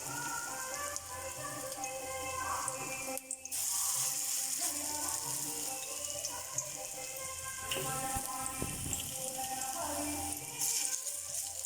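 Cabbage egg omelette batter frying in oil in a kadai over a low flame, a continuous close sizzle and crackle with occasional spatters and stirring, no talk.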